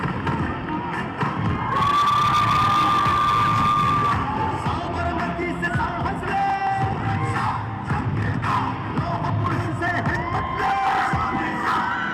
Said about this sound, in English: Everyone in the stadium, can we have a huge round of applause for our guests and our champions?